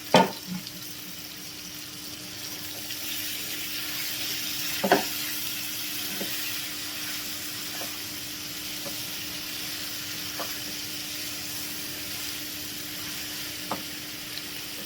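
Tengra fish fries in a pan with a steady soft sizzle, punctuated by a few sharper clinks and occasional pops, fairly faint and close in a home kitchen, with no talking.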